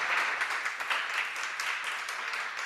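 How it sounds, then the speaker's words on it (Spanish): Conference audience applauding a speaker at a business talk, a dense, steady wash of many hands clapping throughout, moderately loud and without voices over it. "Un aplauso, señores."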